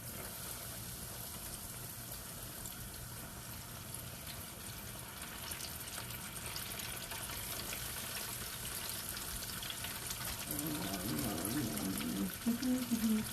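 Catfish frying in hot oil in a home Southern kitchen: a steady, close sizzling hiss that swells into louder, busier bubbling near the end.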